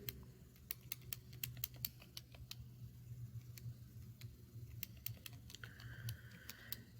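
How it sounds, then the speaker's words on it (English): Rapid plastic key presses as an equation is entered on a calculator, a steady run of sharp clicks in uneven bursts over a low background hum, with no one speaking. "Give me a second while I type this in."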